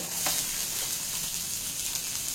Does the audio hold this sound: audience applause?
no